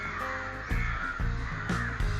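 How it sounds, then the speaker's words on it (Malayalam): Crows caw repeatedly, several harsh calls spaced about half a second apart, loud and close with no talking. "കാക്കകൾ"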